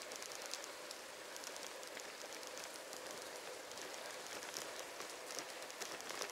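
Light rain patters steadily on an evening street in Marmaris in late November, a soft continuous hiss with no voices.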